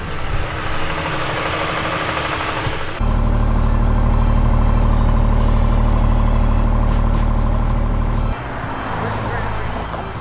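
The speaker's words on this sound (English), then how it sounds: "say goodbye to the rumble of a combustion engine" A Toyota Corolla Cross H2 prototype's hydrogen combustion engine runs loudly, shifting from a rough idle into a deep, steady roar, then easing back down toward the end.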